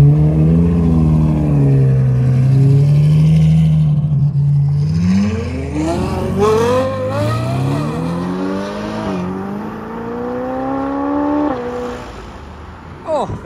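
A Novitec-enhanced Ferrari 488 Pista pulls away at a supercar meet, its engine note climbing sharply through revs with a brief tyre chirp, then settling and fading as it moves off, loud and close.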